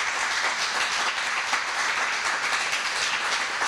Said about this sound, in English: How about a round of applause for Matt Fleckenstein?